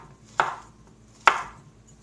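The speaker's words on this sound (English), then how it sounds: "we're gonna cut them into bite pieces" A knife cuts ripe bananas into bite-size pieces for a sweetened microwave banana dish, two crisp chops about a second apart, close and clear with quiet gaps between.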